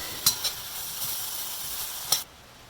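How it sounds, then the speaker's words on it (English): Chopped zucchini stir-fried in a wok without oil, a soft steady hiss broken by a few sharp close scrapes of stirring, ending abruptly. "and then the chopped up zucchini. And I just keep stirring it"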